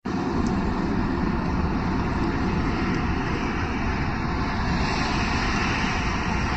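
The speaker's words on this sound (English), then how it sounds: "those sound machines, they help me and my daughter stay asleep while he gets ready in the morning" Steady, broadband rushing hum fills the space without pause, a constant low-heavy drone like a white noise machine.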